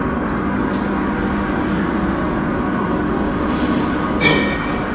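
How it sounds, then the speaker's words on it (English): A milk batch pasteurization vat heating, giving a steady loud mechanical rumble and hum that fills the space, with a few brief high hissing or squealing bursts over the continuous drone. "This is the noise of the vat"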